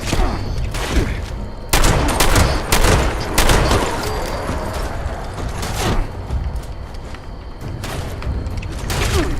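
Shotgun fire in the video game Fallout 76 comes as a dense run of loud, close blasts mixed with mechanical clatter and reloading clicks, nearly continuous throughout.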